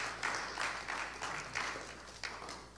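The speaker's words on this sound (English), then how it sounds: "Let's give him a round of applause." Scattered applause from a congregation in a chapel, uneven bursts of clapping rising and falling at moderate volume, heard alone without talk.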